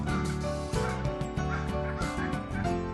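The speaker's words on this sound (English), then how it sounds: "Turkeys talking from a long way off," Turkeys gobble and cluck continuously, some close and some distant, forming a busy layered chorus of bird calls with no talking.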